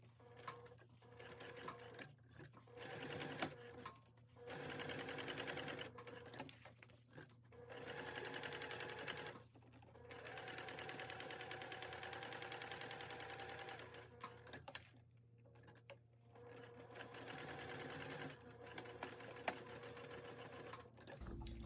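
Sewing machine top stitching around a quilted wallet, running in long steady whirring bursts with brief stops between runs and a low constant hum beneath.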